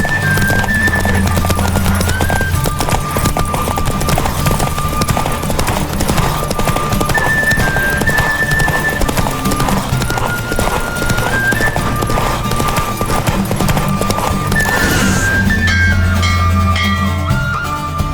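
Rapid clip-clop of galloping hooves in a horse race in The Witcher 3: Wild Hunt, over looping game music, with a horse neighing, loud and continuous throughout.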